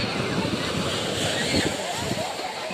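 Sea waves surge and wash continuously along a beach crowded with bathers, a loud, steady broadband rush with wind buffeting the microphone throughout.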